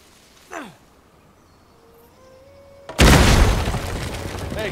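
Dynamite blasts a door open in the video game Uncharted: a sudden loud explosion after a quiet lull, followed by a long roaring, crackling tail of debris.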